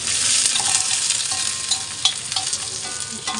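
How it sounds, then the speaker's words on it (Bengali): Onions sizzle and crackle steadily in a hot pan while a utensil scrapes and stirs them with irregular clinks, close and fairly loud, no voices. "একটু ভাজা ভাজা হয়ে গেলে তারপর যেখানে আছে পেঁয়াজগুলো দিয়ে দিচ্ছি"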